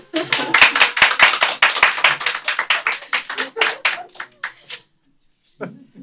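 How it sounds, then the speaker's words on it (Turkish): An audience applauds with a burst of sharp, dense clapping that gradually thins into scattered claps and fades out, followed by a short voice near the end. "Alkışlayalım."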